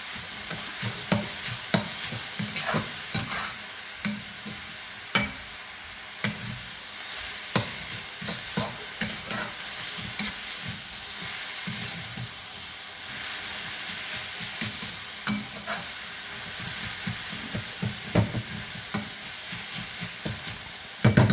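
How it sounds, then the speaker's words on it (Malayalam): A spoon repeatedly scrapes and stirs a salted curry of mixed leaves with turmeric in a sizzling pan, giving regular clacking strokes over a continuous frying hiss. "വീണ്ടും ഇളക്കുക, മിക്സ് ചെയ്യുക."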